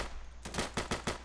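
A rapid burst of gunfire from the video game Insurgency, four or five sharp, loud shots in quick succession after a moment of quieter game ambience.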